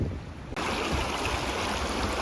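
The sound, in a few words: creek water while crossing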